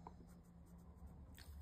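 A pencil marks a line across the top piece of Graphic 45 patterned paper while a 6x4 photo wallet is being made, a faint, soft scratching stroke up close with no talk.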